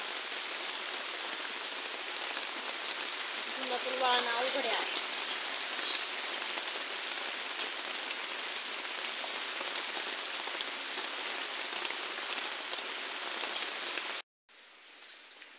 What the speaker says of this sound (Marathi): आता एवढ्या पावसात कोण शेंगा खुरायला जाणार आहे, भरपूर पाऊस आहे.